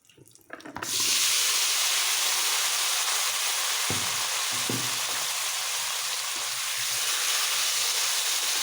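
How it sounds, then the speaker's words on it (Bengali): Potatoes frying in oil in a pan while making a hilsa fish curry with potato and eggplant, a loud continuous close sizzle that starts abruptly after a brief rustle and holds steady, with a couple of soft knocks partway through. "এই তেলের মধ্যে আমি আলুগুলোকে ভেজে নেব।"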